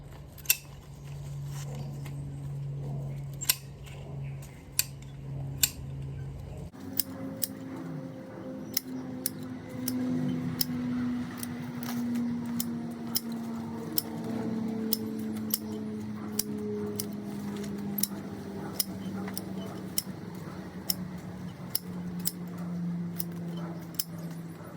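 Garden scissors repeatedly snip leaves off rose stems, sharp distinct clicks in an irregular rhythm over a low steady hum, with no talking.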